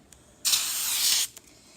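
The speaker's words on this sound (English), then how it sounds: "So what I'm doing is I'm going to go ahead and spray my Molykote on it" A can of Molykote silicone spray releases one steady hissing burst lasting under a second, close and fairly loud, with quiet room tone on either side.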